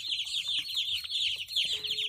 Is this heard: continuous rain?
no